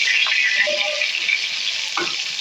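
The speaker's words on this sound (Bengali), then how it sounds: "মাথাটা আমার ভাজা হয়ে যাচ্ছে" A catla fish head frying in oil gives off a bright, continuous sizzle up close, with a couple of faint utensil knocks and no speech.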